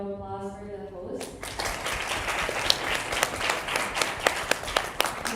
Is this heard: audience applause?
yes